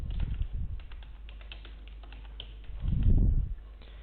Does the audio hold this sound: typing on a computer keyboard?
yes